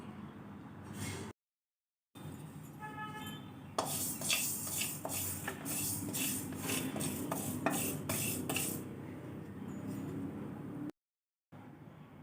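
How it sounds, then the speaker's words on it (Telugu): Two spoons of fenugreek seeds are dry roasted without oil in a pan on low heat, with quiet, continuous stirring, scraping, and light metallic clinks of a spoon against the pan, fairly soft and close. "మెంతులు 2 పెద్ద స్పూన్లు ఆయిల్లెస్ ఫ్రై చేసుకోవాలి."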